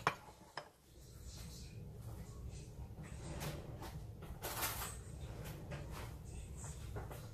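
A fork clinks and scrapes against a bowl while whisking egg yolk for breading Jack Crevalle fish, with a couple of sharp taps at the start and quiet, steady tinkling after.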